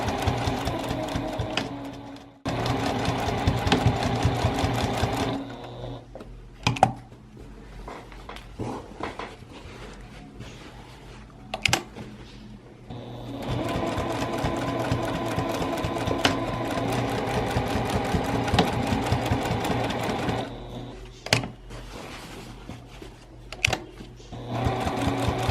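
A sewing machine stitches a canvas tote bag in bursts of fast, even mechanical whirring, stopping and starting again with short gaps and small clicks between runs, close and clear.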